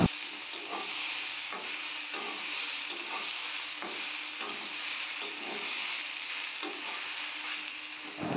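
Taruli, a Bengali vegetable, fries with salt and turmeric in a pan, a steady close hiss of sizzling oil broken by regular soft stirring scrapes, with no talking.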